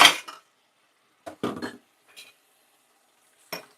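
Bowls, cups and plates knocking and clinking as they are washed at a sink, several separate sharp clatters with quiet gaps between them, close and clear with no talking.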